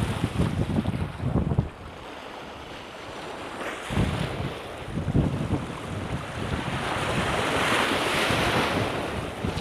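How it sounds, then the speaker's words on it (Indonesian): Sea waves and surf at Muara Angke on the Jakarta coast, where the shoreline is being filled with earth, rolling in steadily with wind buffeting the microphone; heavier surges near the start, then a continuous washing roar. "Ombaknya"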